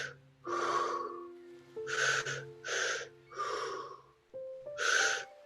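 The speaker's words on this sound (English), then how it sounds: "Return to your normal 3-step breathing." Deep, audible breaths taken during a guided spiritual breathing exercise, five long inhales and exhales in a slow steady rhythm, close and fairly loud, with a soft sustained musical tone underneath and no talking.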